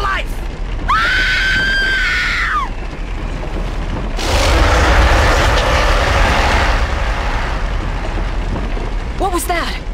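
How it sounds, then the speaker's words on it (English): A woman screams in the King Kong video game, a long, loud wailing cry followed by a rumbling burst of noise and another short scream, with game sounds behind. "Scream, Anne! Scream for your life!"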